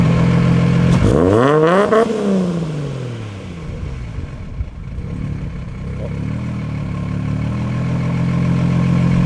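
A 2JZ engine with an AFM, being diagnosed for idle hunting, revs up sharply and falls back, then settles into a steady rumbling idle, loud and close, with no talking.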